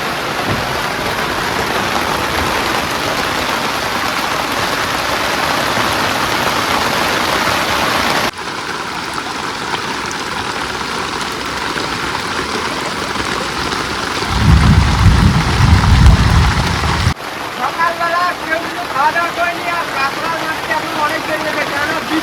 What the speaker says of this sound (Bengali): বাইরে বিশাল বৃষ্টি শুরু হয়ে গেছে